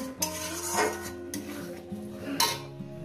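Mutton curry with coconut paste being stirred and sautéed in a pan, a spoon scraping and clinking against metal in repeated strokes with a faint sizzle underneath, close and without talk.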